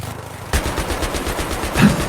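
Rapid machine gun fire in the video game Battlefield 3, a loud, steady burst of evenly spaced shots starting abruptly after a brief lull and continuing without pause.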